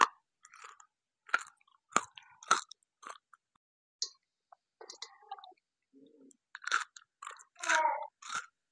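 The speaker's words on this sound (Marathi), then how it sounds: "पावसाळ्यामध्ये ही कुरकुरीत भेंडी खायला खूप मजा येते" Crunchy fried okra (bhindi) is bitten and chewed up close, sharp crisp crunches in an irregular rhythm separated by brief silences, with no talk.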